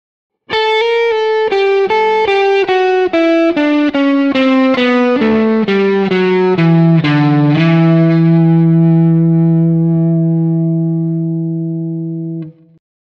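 A distorted electric guitar plays a slow descending lick, each note picked distinctly, ending on a long sustained ringing note.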